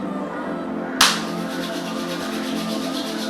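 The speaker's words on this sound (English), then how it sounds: "you have to rub your hands against it and put it right in your hair" Hands rubbing together to warm a scoop of hair wax for a slicked-back undercut, a sudden sharp onset followed by steady, close, dry friction that continues evenly to the end.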